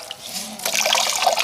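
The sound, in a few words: wringing out a damp polishing cloth, water dripping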